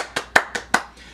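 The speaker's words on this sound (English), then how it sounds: "and I applaud her." Four slow, distinct hand claps ring out close by in an even rhythm, each sharp and crisp, followed by a faint trailing tap.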